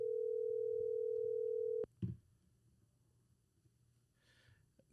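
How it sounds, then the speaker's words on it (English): A steady telephone tone sounds alone for nearly two seconds on an outgoing call, then cuts off, followed by a short clunk and near silence with faint small noises. "The phone is ringing."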